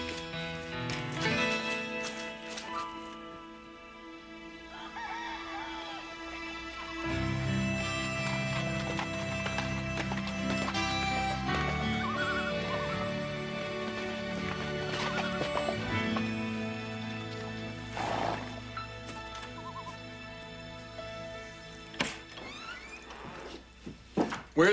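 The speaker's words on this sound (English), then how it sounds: "Otto, saddle up the horses" Horses whinny over the steady clip-clop of hooves, mixed with a dense musical score that swells and fades throughout.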